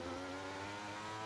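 A racing car engine in an F1 23 sim race at Zandvoort, a sustained, steady high-pitched whine at constant revs, faint and alone.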